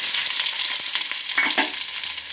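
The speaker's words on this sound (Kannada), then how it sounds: "ಸ್ವಲ್ಪ ಕರಿಬೇವು ಸೊಪ್ಪು ಇಷ್ಟು ಫ್ರೈ ಮಾಡ್ಕೊಳ್ಳೋಣ" Sliced onions with mustard seeds and cumin fry in hot oil in a pan, giving a dense, steady sizzle with soft stirring scrapes close by and no voices.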